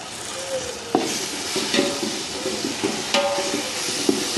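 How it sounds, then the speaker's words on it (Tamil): Ginger garlic paste sizzles and fries in a pan while being stirred for a homemade Tamil Nadu mutton biryani, a steady close hiss broken by occasional scraping clinks of a spoon, with no talking. "இஞ்சி பூண்டு பேஸ்ட்டு போட்டு நல்லா வதக்கிட்டு ஸ்டவ்வை குறைச்சி வச்சுக்கிடுங்க"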